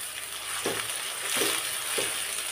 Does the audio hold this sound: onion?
yes